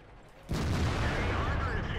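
Tank gun firing in World of Tanks, a single sudden loud blast followed by a sustained rumbling roar, with faint talk mixed in.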